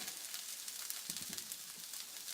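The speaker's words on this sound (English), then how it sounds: "onions cooking a little bit" Chopped onions sizzle steadily in a pan over high stovetop heat, a close, even crackling hiss that continues without a break and with no voices.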